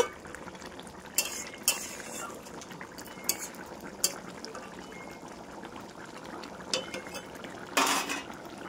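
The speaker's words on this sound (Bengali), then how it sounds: "ভোলা মাছটা তো খুব নরম, তাই একটু আস্তে আস্তে নাড়তে হবে।" Soft intermittent clinks of a spoon against a pan while bhola fish curry is gently stirred, a few sharp taps spaced across a quiet, steady kitchen background with no talking.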